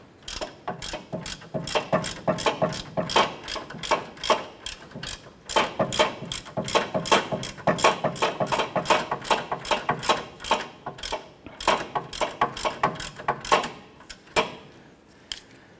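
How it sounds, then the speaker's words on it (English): A ratchet tightens the bolt on a front lower control arm bushing of a 2008-2012 Honda Accord, giving bursts of quick, close metallic clicks that pause and resume over about sixteen seconds, with no voices. "we'll use our ratchet to get that in a bit further. Now we're going to go ahead and tighten this down."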